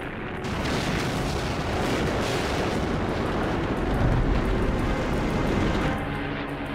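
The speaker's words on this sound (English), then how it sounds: "Many, such as RAF Manston, are bombed repeatedly." Continuous deep rumbling explosions from German bombing raids on RAF airfields in the Second World War, a loud, dense roar of blasts that swells and holds for several seconds.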